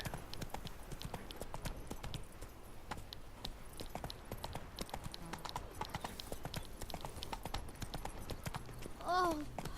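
Geralt's horse Roach trotting in The Witcher 3, hooves clip-clopping in a steady rhythm under game ambience, with a brief whinny near the end.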